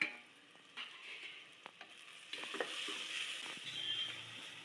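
Tomato cooks with turmeric, garam masala, salt and chili powder in a pan for vegetable kurma, a quiet sizzle that grows louder over time, with occasional spatula scrapes and taps.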